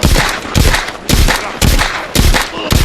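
Handgun shots ring out in The Walking Dead: Saints & Sinners, five or six sharp, loud reports fired at a steady pace about half a second apart, each with a short ringing tail.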